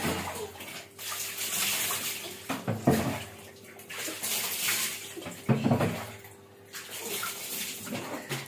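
Water splashes and runs steadily while a small child is bathed, with intermittent louder splashes and sloshing up close.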